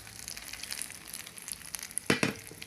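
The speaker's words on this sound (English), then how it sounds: "our non-stick pan is on medium heat, so we're gonna add in the mixture, yeah, and spread everything over the pan" Spanish omelette mixture frying in a non-stick pan over medium heat: a soft, faint sizzle with light crackles and a couple of brief louder scraping bursts as the mixture is spread, close up.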